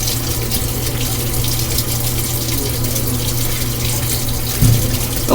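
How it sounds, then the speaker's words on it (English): Samsung WA45T3200AW top-load washing machine filling to full water level, a continuous loud rush of water pouring into the drum over a low steady hum. "But we're filling up to full level."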